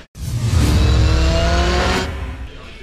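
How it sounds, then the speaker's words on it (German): A race car lapping the circuit at Oschersleben roars past close by, engine revving hard and loud for about two seconds before quickly fading away. "ich darf ein paar Runden drehen mit meinem Auto hier auf der Strecke"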